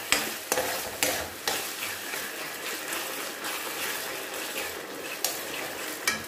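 Rice and jaggery cook together in a pan as the jaggery melts, giving a soft, steady hiss broken by a few sharp taps and scrapes from a stirring spoon.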